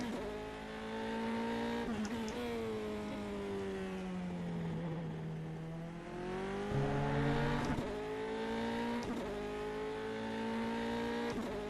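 Formula 3 race car from the ASR mod in the rFactor 2 racing game, a four-cylinder engine droning steadily and loudly, with pitch climbing and dropping through gear changes and throttle lifts, sharp shift breaks around the middle, no talk.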